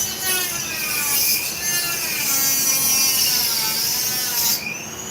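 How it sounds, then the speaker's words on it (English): Dremel rotary tool cutting through material, a loud, steady high-pitched whine running continuously for about four and a half seconds before cutting off. "cover your ears for a second because I gotta use my Dremel."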